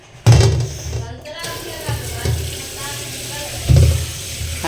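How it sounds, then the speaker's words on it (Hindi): A pomegranate is rinsed under running tap water, water splashing and spattering close by in uneven bursts, with a louder gush near the start and again toward the end. "उसके लिए पहले इसको धो लेते हैं।"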